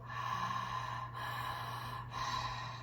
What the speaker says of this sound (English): we're breathing through a slightly closed throat